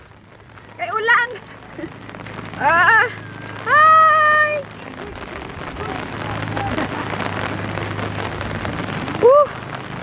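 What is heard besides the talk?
rain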